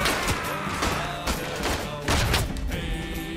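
Battle noise in the trench shooter Verdun, a dense run of loud gunfire and blasts that includes a grenade explosion, with no clear talk.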